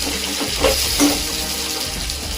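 Water poured into a hot pan of stuffed eggplant, producing a steady sizzling hiss with a couple of brief bubbling spurts, close and moderately loud, no speech.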